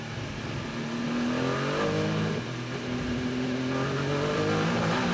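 Onboard engine note of a car at the 2023 6 Hours of Fuji WEC endurance race, loud and continuous, climbing and dropping in pitch through upshifts and downshifts with no talk.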